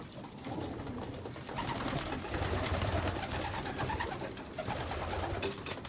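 Racing pigeons coo continuously in a low, throaty murmur, several birds overlapping at close range amid light rustling.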